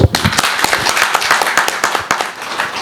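Audience at a traders' meeting in Rawalpindi breaks into loud, close, dense applause, many hands clapping in a sustained burst that thins slightly toward the end, with no voices over it.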